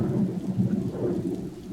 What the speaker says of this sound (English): I felt a spot of rain on my nose as big as a bullet.